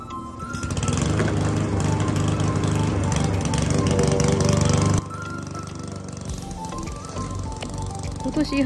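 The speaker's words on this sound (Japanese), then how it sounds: "今から草を刈っていきたいと思います" A lawn mower drones loudly and steadily while cutting grass in a backyard, with a rough engine buzz that drops to a lower, lighter running sound partway through.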